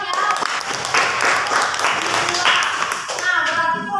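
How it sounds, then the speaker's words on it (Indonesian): A classroom group claps together during a teacher's practice lesson, a dense patter of hands that swells and fades over a few seconds, with children's voices mixed in. "Beri tepuk tangan ya."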